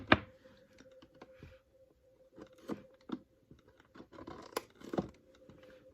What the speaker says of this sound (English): it looks like I'm going to have to cut a little more